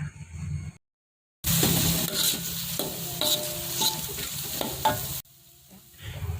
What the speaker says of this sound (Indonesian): Langsung aja masukin serainya, daun salam, sama lengkuas